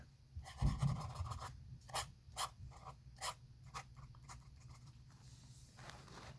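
Fountain pen with a juicy, wet-writing nib moving across paper, close and quiet, with a run of scratchy strokes and short pauses between words.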